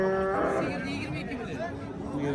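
Dairy cow at a livestock market in Qamashi, lowing with a short, close moo at the start, followed by a busy background of crowd chatter and talk.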